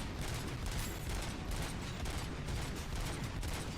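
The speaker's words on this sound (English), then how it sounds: "Where am I getting shot from?" Rapid gunfire aimed at the player in the RoboCop video game, a dense, continuous fusillade of overlapping shots and clattering bursts that stays loud throughout.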